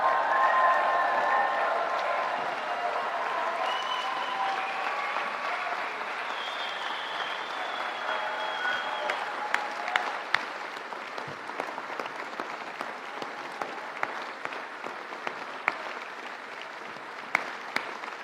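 Sustained applause from a large audience at the HEC Paris graduation ceremony honouring the faculty, a dense wash of many hands clapping that continues throughout, with a few louder individual claps standing out.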